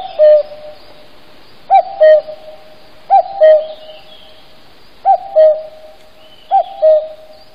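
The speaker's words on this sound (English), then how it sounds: "The word cuckoo is onomatopoeic because it comes from the sound that the cuckoo makes." A cuckoo calls its two-note song five times at a steady, unhurried pace, clear and fairly close against a quiet background.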